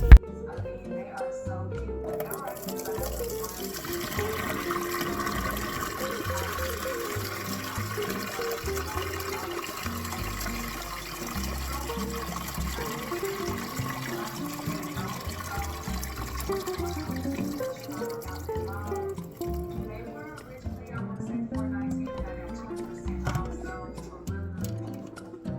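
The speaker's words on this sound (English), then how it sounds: "I'm going to observe my water, how it runs off, whether it's clear or not, as I pour it off" Rinse water poured off freshly washed green beans, a steady splashing stream running for most of the stretch before tapering off near the end.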